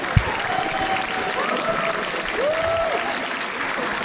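Wrestling crowd in Cardiff breaks into sustained applause, dense clapping and cheering filling the hall at steady volume, with a few whistles rising above it.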